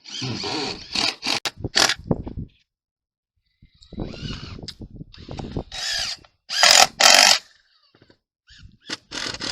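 A power drill drives deck screws into a single-wide mobile home roof, firing in several short, loud whirring bursts separated by brief pauses, close by.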